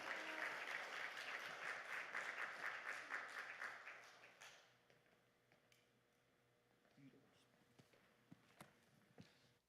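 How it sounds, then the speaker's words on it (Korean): Church congregation at a prayer retreat applauding in a dense, fast clatter for about four seconds, then fading to sparse scattered claps and faint shuffling. "환영하며 박수로 하나님께 영광 올려드리겠습니다"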